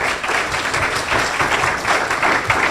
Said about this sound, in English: Let's give another round of applause for this great organization.